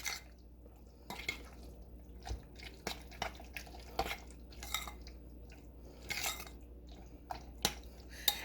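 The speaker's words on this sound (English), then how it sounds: "we've got tomatoes and bacon added, and we're just going to mix this in really," Tomatoes and bacon being mixed into a BLT dip in a bowl: soft, wet, irregular squelches and light taps of the utensil, close and quiet, with brief pauses between strokes.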